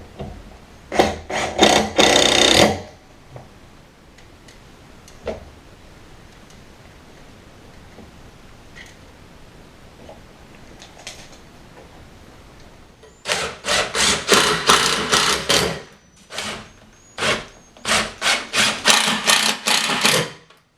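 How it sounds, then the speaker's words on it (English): Bursts of a power drill driving screws into a live-edge walnut bartop through steel, a short burst first, then a long quiet gap before a series of repeated drilling runs close by. "we're going to start drilling our screws in"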